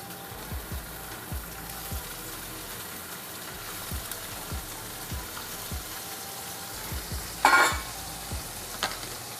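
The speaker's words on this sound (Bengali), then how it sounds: "এখন আমি মাশরুমটাকে ভেজে নিব।" Mushrooms fry in hot oil in a wok, giving a steady sizzle with repeated stirring scrapes and a brief louder burst of spitting near the end, with no talking.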